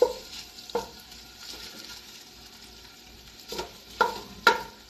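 Sausage in a pot of French lentil soup is broken up with a utensil as it fries: a low steady sizzle with a few sharp scraping knocks near the start and end, close and quiet, with no talk.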